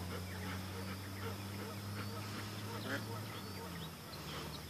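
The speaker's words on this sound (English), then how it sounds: "You don't let a little thing like ducks bother you." Ducks quacking outdoors, a scatter of nasal calls at moderate distance over a steady low hum of background noise.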